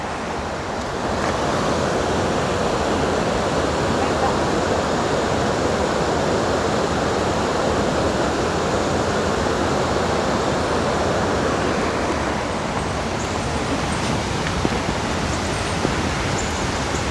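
Rushing waterfall roaring steadily and loud nearby, a continuous broadband wash of falling water with no voices.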